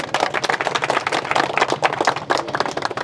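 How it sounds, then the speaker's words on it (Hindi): An audience at an outdoor village public meeting in Khemli claps for two guests, producing a dense, steady patter of many hands at close range for several seconds. "पहले तो दोनों के लिए तालियां हो जाए जोरदार"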